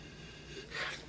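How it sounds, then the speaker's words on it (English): One short, close nasal sniff over a glass of Barbera red wine, a quick breathy inhale in a quiet room. "Let's give this wine a little bit of a sniffy sniff."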